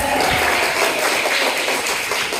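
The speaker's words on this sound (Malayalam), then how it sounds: "ഒരു നല്ല ക്ലാപ്പ് കൊടുക്കണം മക്കളെ" A group of children claps and applauds together at a school literary club inauguration, a dense, even patter of many hands that holds steady for a couple of seconds.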